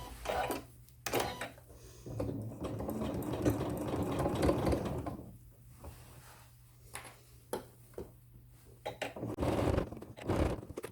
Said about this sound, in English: I've got my loop out of the way, and I'll start with the locking stitch.